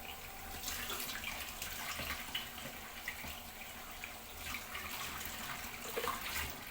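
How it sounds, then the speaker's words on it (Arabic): Water runs steadily from a kitchen tap into a sink while a pigeon is washed, a continuous close splashing wash with faint clinks, no talking. "خلاص كده حمامه نغسلها كويس"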